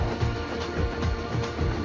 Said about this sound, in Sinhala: මේක ඇද්ද ගමන් ට්‍රේන් එක යනවා